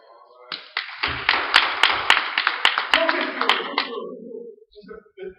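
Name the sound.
congregation clapping hands in praise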